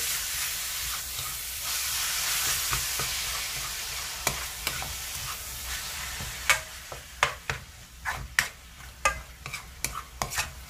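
Ground pork giniling cooks in a pan with a steady sizzle, then from midway a series of sharp spatula scrapes and clacks stir it in an uneven rhythm, close and fairly loud.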